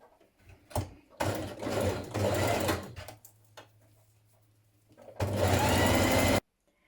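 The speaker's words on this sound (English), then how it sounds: "Now stitch your underarm seam." A sewing machine stitches the underarm seam of a coat in two loud bursts of fast whirring, separated by a quieter stretch and ending abruptly.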